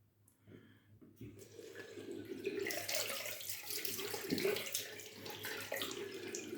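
Water runs steadily from a tap into a sink, a broad continuous hiss that builds after a quiet start and stays loud throughout, with no talking.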